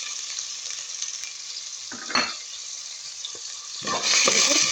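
Onions dropped into hot oil in a cooking pot, a steady close sizzle that flares into bursts of louder crackling as they hit the oil, no one speaking.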